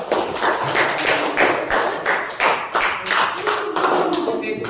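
A classroom group of students clap together after a presentation, a loud, steady rhythmic beat of roughly three claps per second that continues for the full few seconds.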